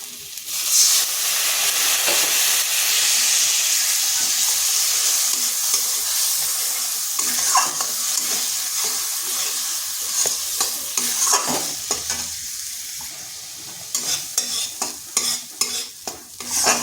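Spice paste with turmeric powder sautéed in a pan, a steady loud sizzle with scraping stirring strokes that grow choppier toward the end.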